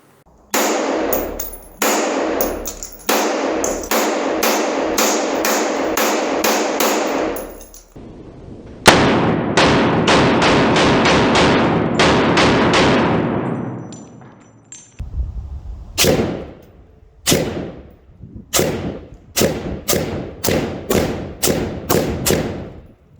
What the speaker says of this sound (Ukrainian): Робимо одразу серію пострілів та дивимось результат.